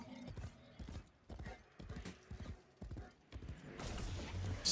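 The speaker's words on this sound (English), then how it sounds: "Stupid horse." Horse hooves in the Warframe video game clip-clop in a steady, close rhythm of repeated hoofbeats, with a brighter burst of noise near the end.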